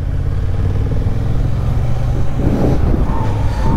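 A 2023 Honda CB750 Hornet motorcycle, in its A2 version, is ridden on the road. Its engine drones loud and close with a steady, continuous rumble, and a faint clatter and wind rush run underneath.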